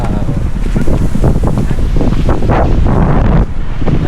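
Strong wind on a trek to Mt Pinatubo roars and buffets the microphone continuously, a loud, dense rush with faint hiking sounds beneath it.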